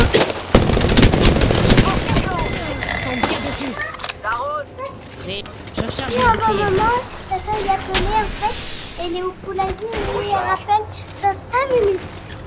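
Gunfire crackles through an Apex Legends match, with bursts of rapid automatic shots and single cracks near and far, loud and repeated under game voice lines and chatter.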